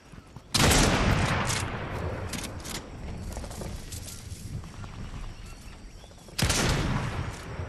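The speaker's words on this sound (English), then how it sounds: "there's shooting coming from over here" Bursts of gunfire in the Fortnite game: a loud volley erupts, trails off into scattered shots and rumble, then a second sharp burst near the end.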